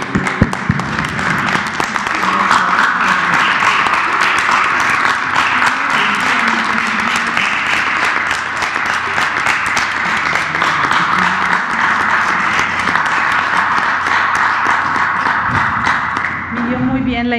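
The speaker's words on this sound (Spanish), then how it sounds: "este es un aplauso para los trabajadores de la salud en todo el país" A long, sustained round of applause for health workers across the country at a press conference, with a crisp clapping texture and voices speaking over it throughout.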